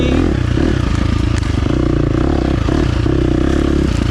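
A 2023 KTM 350 XC-F dirt bike engine runs loud and close while riding, a steady high-revving drone with rattling clatter throughout.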